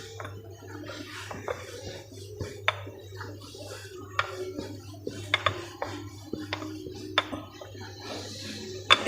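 Stuffed potato paratha dough, Punjabi-style aloo paratha, rolled out with a rolling pin: a steady run of light knocks, clacks and scrapes against the board, close and fairly quiet, with no voices.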